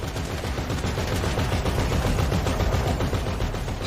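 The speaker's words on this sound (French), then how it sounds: "Les pauvres mecs qui se retrouvent dans la fusillade" Rapid, sustained automatic gunfire in a video game shootout, a dense unbroken stream of loud cracking shots with no pauses.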